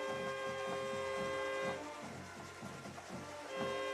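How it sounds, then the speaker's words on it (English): Train horns blasted at a high school football game between Alcoa and Upperman, sounding as sustained steady tones over crowd noise, fading briefly in the middle and returning loud near the end. "Oh, the train horns."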